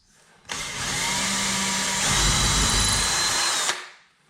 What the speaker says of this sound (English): I'm just going to drill some pilot holes